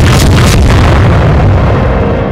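A loud, booming torpedo explosion in the World of Warships naval game fills the whole moment with a deep, sustained roar that slowly fades.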